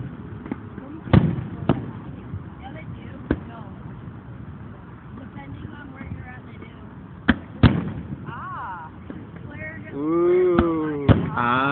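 Fireworks show in San Diego, several sharp bursts spread across the scene, some near and some farther off, with crackles and whistling shells, while people talk and exclaim in the background.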